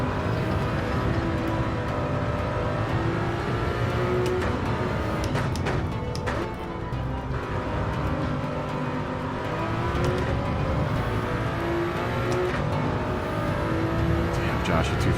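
Toyota Supra race car engine in Gran Turismo 7, a sustained high whine with rising and falling revs and gear shifts through a slide, loud and continuous.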